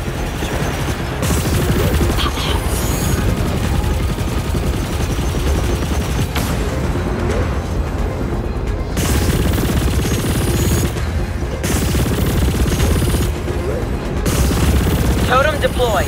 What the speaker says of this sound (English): I'm heading over now to lay down some cover fire